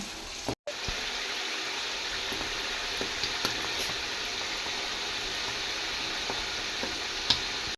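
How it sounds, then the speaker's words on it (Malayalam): Clams deep-frying in oil for a Kerala-style clam pickle, a faint, even bubbling sizzle that runs steadily, with a brief dropout near the start and occasional small pops and clinks. "അങ്ങനെ നമ്മളെ കക്കയെല്ലാം ഞാൻ വറുത്ത് കോരി വെച്ചേക്കാണ്."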